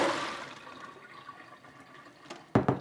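Almonds are rinsed in a bowl of water, with a soft swirl of water at first, then quiet, then a couple of sharp splashes near the end.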